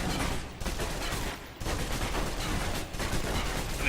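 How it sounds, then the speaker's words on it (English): A submachine gun fires in the video game Alpha Protocol: loud sustained bursts of rapid automatic fire, broken by short gaps between bursts. "Now, let's move on to the submachine gun. Alright. Now let's empty the clip."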